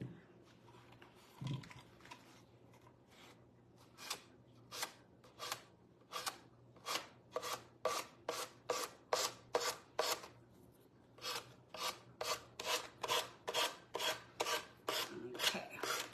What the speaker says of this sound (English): Want to make sure this is nice and dry before I sand it.